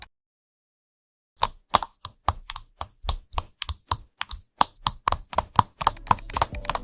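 Crisp AI-generated keyboard clicks tap out in an irregular, rapid rhythm after a moment of silence, close and clear with no voices.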